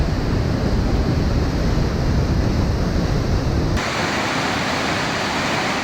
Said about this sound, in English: the once tranquil waterfall now a roaring beast unleashed in the heart of the jungle